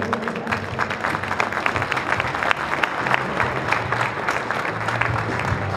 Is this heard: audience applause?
yes